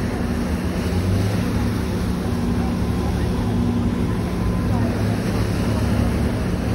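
A steady, loud rumble of engine and rushing water, with wind, carries on without a break aboard the Halifax Transit ferry Christopher Stannix as it crosses Halifax harbour.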